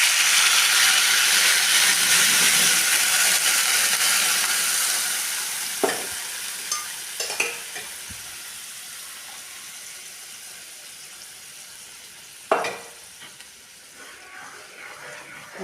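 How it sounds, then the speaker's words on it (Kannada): Masala paste sizzling and frying steadily in hot oil for a paneer dish, a broad continuous hiss that slowly eases, with a few scraping stirs and clinks of a spoon against the pan. "ಇವಾಗ ನೆಕ್ಸ್ಟು ಮಸಾಲೆ ರೆಡಿ ಮಾಡಿದ್ವಲ್ಲ ಅದನ್ನು ಹಾಕ್ತಾಯಿದ್ದೀನಿ"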